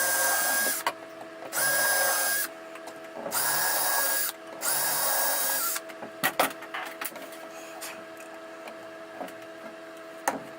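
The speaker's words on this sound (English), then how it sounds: "So I'm just going to pre-drill in the roof, in this part of the roof section now" A power drill bores pilot holes into the soft wooden roof section of a homemade bird feeding station, four steady whirring bursts separated by short pauses, followed by quieter clicks and handling noises.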